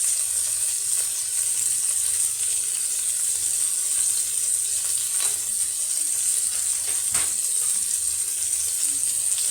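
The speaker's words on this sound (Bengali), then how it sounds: "বোয়াল মাছটা দিয়ে দিলাম। এটা হালকা ভাজবো, বেশি ভাজবো না।" Boal fish (wallago catfish) lightly frying in a pan for a tomato curry, a steady close sizzle with bright crackling throughout and a couple of soft clinks.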